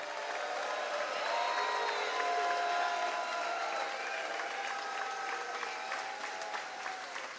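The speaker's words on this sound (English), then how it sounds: "we hope you will join me in thanking him and Senator McConnell with a warm round of applause." Outdoor crowd applause at the Fancy Farm Picnic political event in Kentucky, a dense sustained wash of clapping with scattered cheers and whistles rising over the audience, steady throughout.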